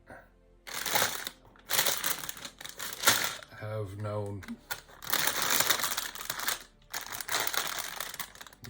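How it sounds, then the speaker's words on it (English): Plastic bags holding Lego pieces crinkle and rustle in repeated bursts, with small pieces clicking inside, while a person talks over the handling. "I'm going to be rustling bags, so I apologize for the noise."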